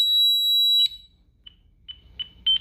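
A Honeywell security alarm panel sounds for an opened window: a loud continuous electronic tone cuts off, then a few short, quieter beeps follow at uneven intervals, with no voices.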